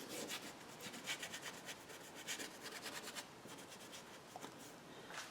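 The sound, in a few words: brush scumbling paint in a painting's foreground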